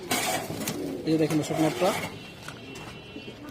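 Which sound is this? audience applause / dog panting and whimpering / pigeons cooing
pigeons cooing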